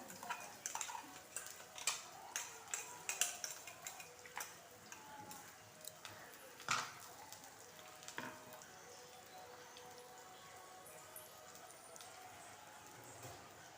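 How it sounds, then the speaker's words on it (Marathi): Ground spice paste sizzles in hot oil with curry leaves while being sautéed for Maharashtrian stuffed eggplant (bharli vangi), a faint crackling hiss with scattered sharp ticks and clicks from stirring, fairly quiet throughout. "आता वाटण सुद्धा छान आपल्याला तेलामध्ये परतून घ्यायचं आहे"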